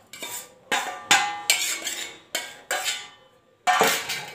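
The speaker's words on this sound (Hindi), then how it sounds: "तो ये मैं अच्छे से मिक्स कर रही हूँ" Masala spice mixture stirred in a bowl with a spoon, giving seven sharp clinking scrapes in an uneven rhythm, close and fairly loud, with no talking.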